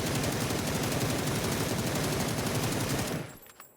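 Rapid automatic gunfire from a first-person shooter game, a dense, unbroken stream of loud shots lasting about three seconds before cutting off abruptly into near silence.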